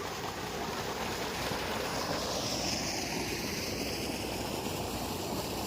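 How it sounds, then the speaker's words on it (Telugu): Two dewatering motors run at a construction site near towers in Amaravati, pumping out water: a steady, dense rushing wash of discharging water with a low mechanical rumble and some wind noise, loud and continuous throughout. "రన్నింగ్లో అయితే 2 మోటార్లు అయితే ఆన్లో అయితే ఉన్నాయండి"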